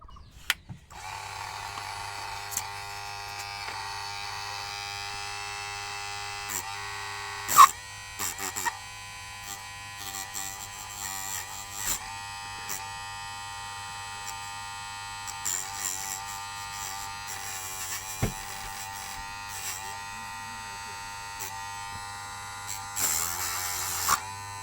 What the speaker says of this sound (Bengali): আমি মোটরটি চালু করব।